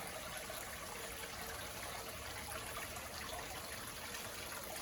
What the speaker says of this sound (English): Just listen to the sound of the water.